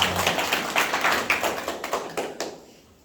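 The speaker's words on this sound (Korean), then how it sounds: "박수하겠습니다" An audience at a Korean church evangelism training lecture claps together, a steady run of fairly close, even claps with regular pulses that fade out toward the end, with no talking.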